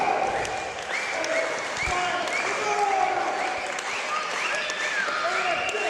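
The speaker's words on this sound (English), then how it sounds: "This crowd clearly behind Acid" A wrestling crowd applauds and cheers in a continuous loud wash of clapping and voices, with a commentator talking over it.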